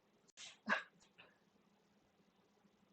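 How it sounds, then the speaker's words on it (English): A few sharp dog barks and yips early on, fairly quiet and slightly distant, followed by near silence with a faint low hum. "I apologize if you hear my dogs either barking or growling or fighting."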